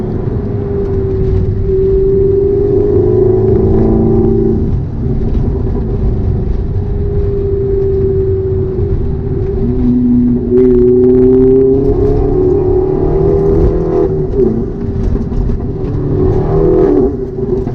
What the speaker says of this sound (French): Il y a un bruit au passage de rapport que j'aime beaucoup.